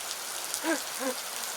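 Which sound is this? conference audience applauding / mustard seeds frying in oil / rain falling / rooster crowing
rain falling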